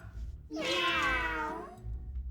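A voice imitates a cat's meow, one drawn-out, rising and falling mew about a second long, loud and close, with no other talk.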